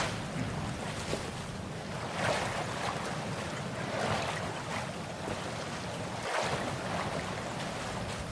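Ocean surf in the survival video game Sons of the Forest rolls steadily with wind, swelling in gentle waves of broadband wash throughout, moderately loud and continuous with no voices.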